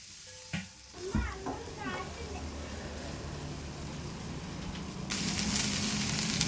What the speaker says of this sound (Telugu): నా ఇంకో ప్యాన్లో నేను వెజిటబుల్స్ సార్ట్ చేసుకుంటున్నాను